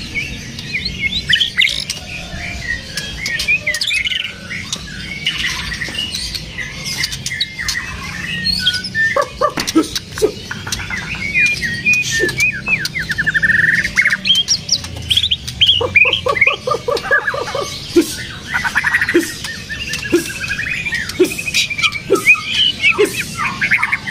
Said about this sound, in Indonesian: Ini murai hutan juga